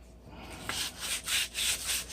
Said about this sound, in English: I'm going to hand sand this and smooth this wood back out